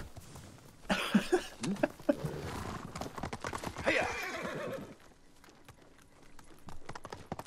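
In the video game Ghost of Tsushima, hooves clip-clop while a horse whinnies twice, loud and close, then the hoofbeats continue more quietly.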